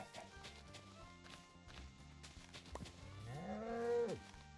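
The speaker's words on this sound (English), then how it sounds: "Hello, cow." A cow mooing in the video game Minecraft, one low drawn-out moo rising then falling near the end, preceded by soft footstep-like thuds and ambient game sounds.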